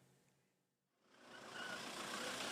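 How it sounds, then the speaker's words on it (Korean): Cars rolling in a line into the front yard of a district office for a drive-through donation event; the engine and road noise swells from near silence to a steady, close rumble. "구청 앞마당에 차들이 줄지어 들어옵니다"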